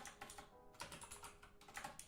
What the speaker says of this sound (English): You guys can probably hear my mechanical keyboard going.